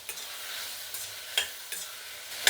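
Garlic frying with tomatoes in a pan gives a steady close sizzle, broken by a few sharp stirring scrapes.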